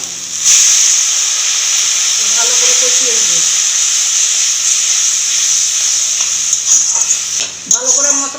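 Chili, coriander and turmeric powders sizzle loudly in a hot pan after a little water is added, a steady steam hiss running throughout with faint stirring scrapes and a brief voice near the end.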